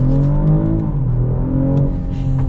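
A 2026 BMW X5 xDrive40i with the B58 engine accelerates smoothly, its steady engine drone rising gradually in pitch, loud and continuous from start to finish.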